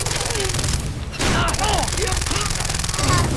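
Bursts of assault rifle fire in the shooter game Far Cry 3, a loud sustained volley with booming impacts, mixed with game effects and a voice talking over it.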